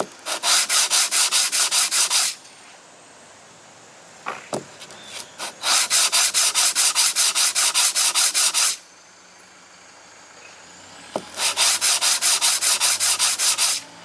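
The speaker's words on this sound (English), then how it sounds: "Now this is taking material off the brake pad, but I've got plenty here." Semi-metallic emergency brake pad for a Polaris Ranger being sanded flat in three long bursts of loud, rhythmic back-and-forth scraping, separated by quiet pauses with light handling clatter; no talk.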